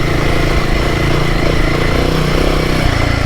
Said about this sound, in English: Now I'm just in second gear here, guys, lugging along. She's chugging away,